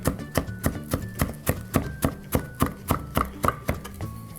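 A knife chops cherry tomatoes on a cutting board for a bruschetta grilled cheese, giving about fifteen sharp, evenly spaced taps that stay close and clear with no talking.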